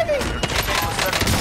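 Rapid gunfire in Call of Duty: Warzone, a quick run of sharp shots under frantic shouting from players, short and close.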